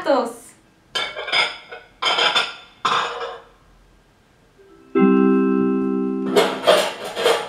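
Dishes clatter in several short bursts of clinking plates and cutlery, with a sustained tonal hum partway through before more clattering.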